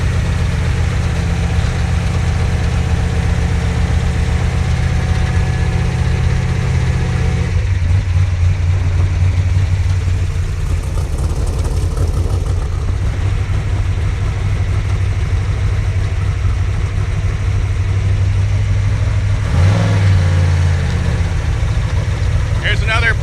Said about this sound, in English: Driving the trophy truck for Richie Armstrong today.